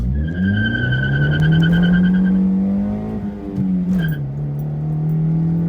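A Honda CR-Z in sport mode pulls away from a standstill in first gear, its engine rising in a loud, close, climbing drone with a brief dip near the end as revs settle.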